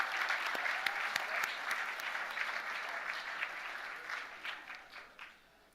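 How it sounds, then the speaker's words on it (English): Benefit gala guests at the 2024 Children's Aid event applaud the lead sponsors, a broad, fairly distant round of clapping holding steady for several seconds before dying away. "Let's give a big round of applause to all our lead sponsors"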